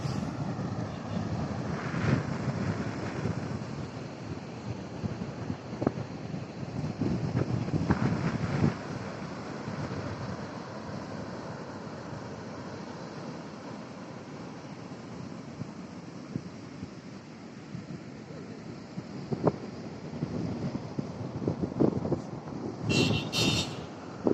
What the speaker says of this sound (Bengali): কি বিশাল সমুদ্র!